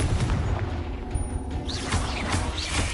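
Confringo fire spell blasts in Hogwarts Legacy: loud, booming explosive bursts mixed with crackling impacts and whooshing, continuous and dense throughout.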